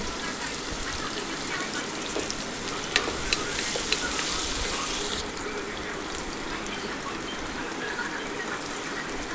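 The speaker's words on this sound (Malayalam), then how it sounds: "അതിലേക്ക് ഉള്ളി ഇട്ട്, വലിയ ഉള്ളി ഒരു കഷ്ണം ഇട്ട് ഞാൻ അതൊന്ന് താളി വരട്ടെ" Large onion pieces sizzling and frying in hot oil in a pan, a continuous crackling hiss with occasional clicks of stirring, steady and close.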